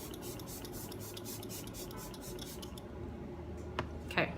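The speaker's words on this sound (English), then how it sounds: "So I'm gonna go ahead and spray and I'll show you what I mean." Setting spray misted onto a face during makeup application gives a soft, continuous hissing spray for a few seconds, then fades to quiet room tone with a couple of small taps near the end.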